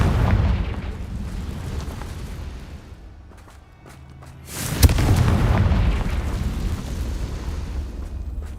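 Confringo fire spell blast in the video game Hogwarts Legacy, a sudden loud boom after a brief lull, with roaring rumbling noise before and after it.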